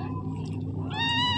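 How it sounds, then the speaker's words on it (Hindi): A cat meows in a home with several cats, a clear rising harmonic cry near the end over a steady low hum, no talking. "यहाँ पे है बिल्ली सबसे मासूम"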